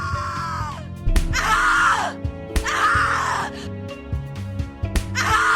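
Screams from The Cat Lady horror game, a voice crying out in repeated drawn-out wails and anguished shrieks, close and loud, with gasps and groaning between bursts.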